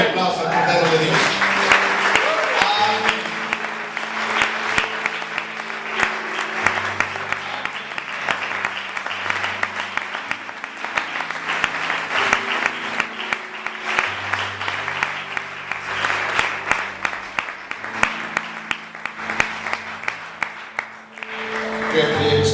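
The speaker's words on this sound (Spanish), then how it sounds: "Denle un aplauso al Cordero de Dios." A church congregation applauds loudly and steadily for a long stretch with dense clapping, while music plays underneath.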